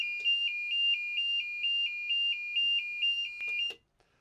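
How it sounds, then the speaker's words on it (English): A boat's lithium battery BMS shutdown alarm beeps in a rapid, steady series of about fourteen short high-pitched electronic pulses, loud and close, then cuts off abruptly after a few clicks, with no talking. "that audible alarm that's able to be triggered via the communication from the battery"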